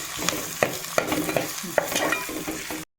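Four medium onions frying with ginger-garlic paste, loud close sizzling with repeated spatula strikes and scraping against the pan, no voices, cutting off abruptly at the end.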